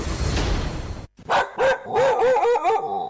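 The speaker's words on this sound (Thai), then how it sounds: "มีหมาที่ไหนก็ไม่รู้เห่าอยู่หน้าบ้านเรา" A dog barks loudly in front of a house, giving a short burst of several sharp, yelping barks close by, with no one speaking.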